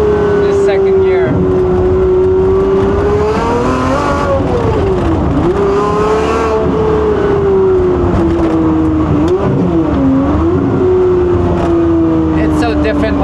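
A turbocharged car's engine pulls hard in second gear through traffic, a loud steady drone that climbs and dips with revs, accompanied by someone talking.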